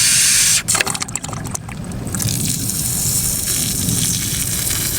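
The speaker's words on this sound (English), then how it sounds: "all the water that's inside this pipe right now is working its way down, and it'll end up draining out of that" Water draining out of the weep hole at the base of a frost-free well hydrant just after shutoff, a steady close-up trickle and gush that follows a brief burst of splashing at the start.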